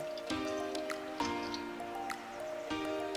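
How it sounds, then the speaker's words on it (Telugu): Boiled water is poured over marinated mutton in a pot for Hyderabadi mutton dum biryani, giving soft splashing and dripping with a few brief liquid plops against a faint background hum. "ఇప్పుడు మనం బాయిల్ చేసిన వాటర్ ఒక టూ కప్స్ మనం మ్యారినేట్ చేసుకున్న మటన్ పైన వేసుకోవాలి"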